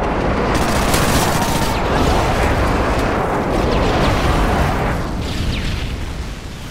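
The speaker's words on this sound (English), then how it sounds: "Enemy airstrike approaching." Loud, continuous rumbling blasts from an airstrike in Call of Duty: Modern Warfare 3, a dense roar of overlapping explosions that swells and rolls on for several seconds before easing slightly.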